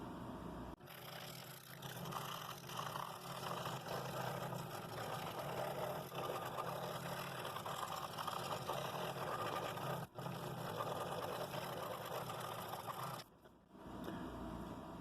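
A scroll saw cuts the final inside line of a Tree of Life box in dense 3/4 inch wood, a steady close mechanical buzz that runs almost without a break, with brief dips partway through and near the end.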